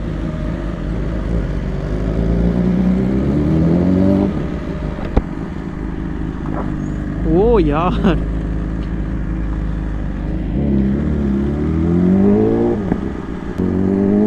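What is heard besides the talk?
BMW S1000RR motorcycle riding and revving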